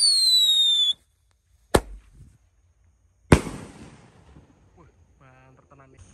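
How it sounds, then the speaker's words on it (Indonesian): Two sharp, loud blasts from Mortar Sweet firework mortars at a night-time Ramadan firecracker session. Each crack is followed by a short crackling tail, and a whistling tone is heard just before them. Faint voices come in near the end. "Lanjut kita nyalakan mercon Mortar Sweet."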